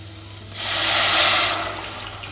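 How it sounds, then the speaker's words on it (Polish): Vegetable broth pours steadily into a pot for cauliflower soup, a rushing, splashing wash of liquid that swells in the middle and then tapers off, close and fairly loud, with no talking over it. "Dodaję bulion warzywny."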